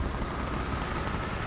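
Low steady rumble of a BT-7M tank engine in the War Thunder video game, a faint continuous drone with no voices over it.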